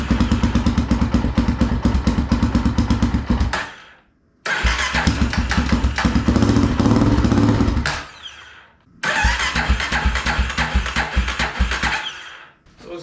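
A 2005 Polaris Predator ATV with a freshly installed carburetor is choked and started, turning over loudly in three long bursts of cranking and running, each cut off by a short silence.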